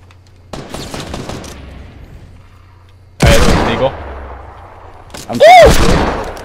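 Gunfire in the video game Fortnite comes as sharp bursts of shots separated by near-silent gaps, with a loud rapid volley in the middle and a final burst followed by a ringing tone.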